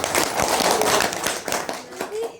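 A student audience claps at a madrasa motivational talk, a close, busy patter of many hands with a speaker's voice running over the clapping.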